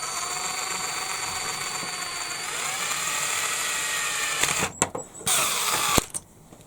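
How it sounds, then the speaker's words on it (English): A small power drill bores a pilot hole in a Bruder low loader model, a steady high whine running close and loud, then faltering into short stop-start bursts as the bit cuts through. "I do prefer to make a quick pilot hole first."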